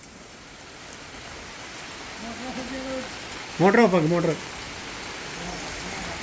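Rain falls outdoors with a soft, steady hiss throughout, while voices talk over it in the middle.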